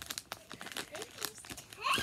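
A mailed package being ripped open gives a quick run of crinkling, tearing rustles that build to a louder rip at the end, with brief speech mixed in.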